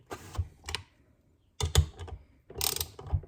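Half-inch drive ratchet tightening cush hub bolts on an Icebear Champion 125cc, giving quick clicking bursts in three separate runs with silent gaps between, close and clear.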